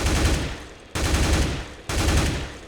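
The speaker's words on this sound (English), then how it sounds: "Now another thing that is good to practice with is the M4. It's the same idea, you want to control the recoil." Full-auto bursts from an M4 rifle in Counter-Strike: Global Offensive, three sustained strings of rapid gunfire cut by brief pauses, loud and close with no talk.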